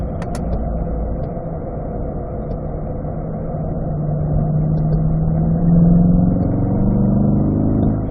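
A car engine accelerates hard in fourth gear during a hot lap on a track, heard from inside as a steady mid-pitched drone that climbs in pitch and loudness toward the end.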